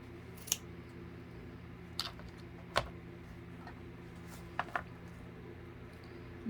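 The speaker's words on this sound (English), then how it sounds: "I'm going to cut the arm, and then cut it in half" Scissors snip through craft material while making arm pieces for a ladybug gnome night light, giving a few sharp, close clicks spaced apart over a low steady background hum.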